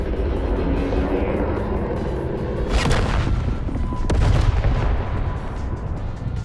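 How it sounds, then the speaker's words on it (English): A Protectorate transport ship explodes in the video game The Outer Worlds 2, a loud rumbling blast with a sharp crack partway through, heavy low booming rolling on under a roaring roar for several seconds, no voices. "An explosion, obviously."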